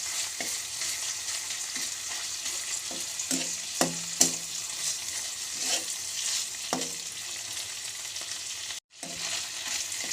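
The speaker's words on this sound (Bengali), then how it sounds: "এভাবে একটু ভেজে নিব চাপাটি" Chapa shutki, a dried fermented fish, fries in a pan with a steady close sizzle. Several sharp scraping clicks from stirring break through the sizzle, and no one speaks.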